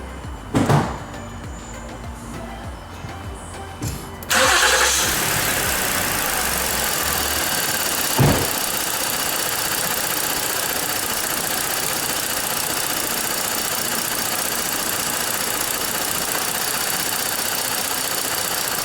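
A Ford Explorer engine with a P0019 fault cranks and catches with a loud burst, then settles into a steady, close idle with a brief clunk partway through.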